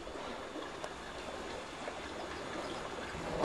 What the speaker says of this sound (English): As the water runs off the roof